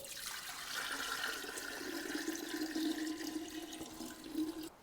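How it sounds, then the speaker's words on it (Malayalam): Boiled, cooled salted water pours steadily into a pickling jar for a few seconds, a close, gurgling stream that fades at the end. "ഇനി നമ്മൾ ഭരണിയിലേക്ക് നല്ല തിളപ്പിച്ചാറി ഉപ്പൊക്കെ ഇട്ട വെള്ളം നമുക്ക് ആദ്യം ഒഴിച്ചു കൊടുക്കാം."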